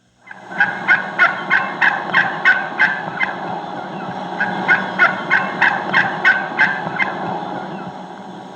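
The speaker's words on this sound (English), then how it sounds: "Let's listen to this hen as she's going to a gobbler." A wild turkey hen yelps toward a gobbler in two runs of quick, rhythmic, raspy notes, about a dozen each, loud and clear with nothing else over them.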